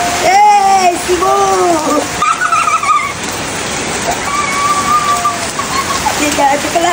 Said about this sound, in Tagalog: Sika sa kalagitan! Ulan!